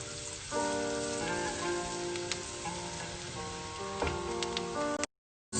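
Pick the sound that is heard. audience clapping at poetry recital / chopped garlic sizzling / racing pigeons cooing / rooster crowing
chopped garlic sizzling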